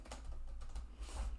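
Quick keystrokes on a computer keyboard while entering birth details into astrology software, a steady run of light clicks, close and moderately quiet, with no talking.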